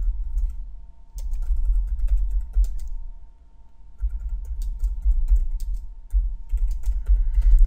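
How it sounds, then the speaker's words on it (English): Fast typing on a computer keyboard while entering commands in Stata, quick bursts of close, crisp keystrokes with a short lull near the middle before the clatter resumes. "So I could type, for example,"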